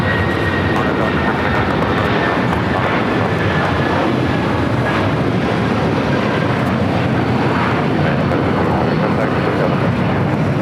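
An airliner takes off at LAX, a loud, continuous jet engine roar filling the scene steadily for the whole stretch, with a faint high whine riding on top.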